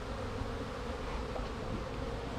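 Honey bees in an open hive during a Hop Guard II treatment, a thick steady buzz of many bees close by with light handling noise and no speech.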